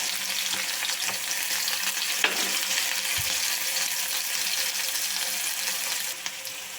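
Carrot and onions frying in a pan, a steady close hiss of sizzling oil with a couple of faint stirring knocks.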